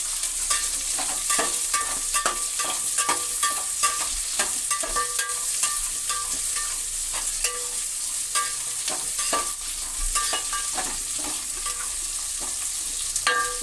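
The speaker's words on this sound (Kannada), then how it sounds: "ನುಗ್ಗೆಕಾಯಿ ಹಾಕ್ಬಿಟ್ಟು ಉರಿಬೇಕು ಚೆನ್ನಾಗಿ" Drumstick pods frying in oil in a pan, with a steady bright sizzle throughout and repeated short scraping clicks as they are stirred. No voices.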